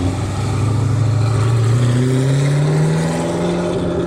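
A manual Hennessy Venom's engine revs loud and near at a turnaround spot, its pitch sweeping steadily upward through a sustained, throaty pull with no voices over it.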